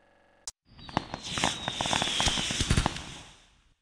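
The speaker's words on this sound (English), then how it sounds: "Fireworks!" Crackling fireworks from the Disney Learning Phonics Quest video game, a single sharp pop followed by a dense burst of crackles and bangs with a faint whistling streak, loud and steady for about three seconds before fading.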